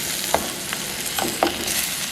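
Onions sizzle steadily in a hot pan for chicken curry, with a few soft scraping stirs of a spoon cutting through the frying.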